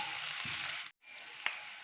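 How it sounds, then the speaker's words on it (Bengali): Onion frying in white oil in a wok gives a steady close sizzle that cuts out briefly, then resumes with a single sharp clack of a spatula. "পেঁয়াজটা একটু ভাজা হতে থাকবে।"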